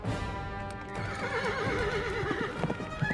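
A horse neighs in a long, wavering whinny, loud and close, over a dense background of clopping hooves and other scene sound.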